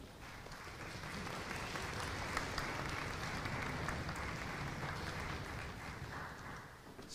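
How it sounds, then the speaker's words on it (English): An audience at a single reed concert applauds a professor, many hands clapping in a dense, even roar that holds steady at moderate distance throughout. "How about a round of applause for Professor Kauffman?"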